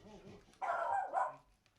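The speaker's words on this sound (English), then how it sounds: "That dog has a damnedest bark." A dog gives a single loud, gruff bark, split into two bursts, close by after a quiet moment with faint background noise.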